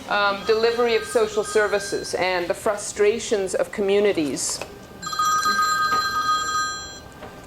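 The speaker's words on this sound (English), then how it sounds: "oh, sorry, that's my phone." A mobile phone rings with a bright electronic ringtone of repeated tonal chimes that begin right after someone speaking and carry on alone for a couple of seconds.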